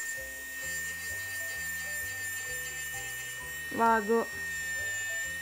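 An electric nail drill with a delicate yellow-ring bit whines steadily at low speed, removing gel from an almond-shaped gel nail. A brief voice cuts in near the end.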